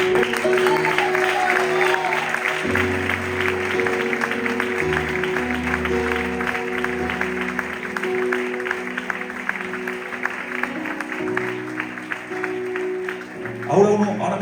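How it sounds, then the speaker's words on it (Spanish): A church congregation gives a strong round of applause while keyboard music plays sustained chords underneath and voices talk over it, continuing steadily to the end. "le damos un fuerte aplauso"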